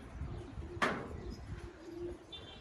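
Old-breed purple Istanbul pigeons give faint, low coos outdoors, with one sudden brief burst like a wing flap partway through and soft background noise throughout.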